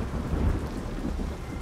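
Steady rain with rumbling thunder in the ghost-hunting video game Supernormal, a continuous dense downpour with a low rolling swell, fairly quiet and with no voices over it.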